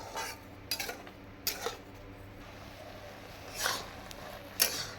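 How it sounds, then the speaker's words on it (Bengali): A utensil scrapes and taps against a pan while papaya sandesh is stirred, a few sharp metallic clinks spaced out over a quiet background hum. "এইভাবে আমি অনবরত নাড়তে থাকবো সন্দেশটা ভালোভাবে পাকটা হওয়া অবধি।"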